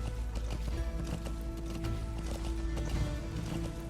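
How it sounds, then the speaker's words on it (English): Rhythmic hoofbeats of a horse running in the video game Metal Gear Solid 5, quick clip-clop strikes repeating over a low game soundscape. "So if I could just figure out how to get this damn horse to run faster."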